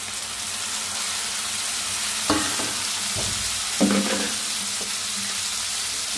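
Pieces of quail meat fry in a pan with a steady, close sizzle, broken by a few louder bursts as more pieces are added or stirred; no one talks.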